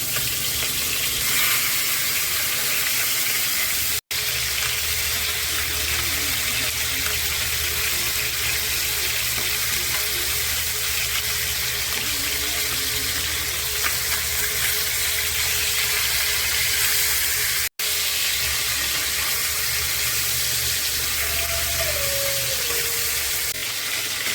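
Tilapia pieces frying in hot oil, a loud, continuous close sizzle with steady crackling that holds for the whole stretch, no talking over it.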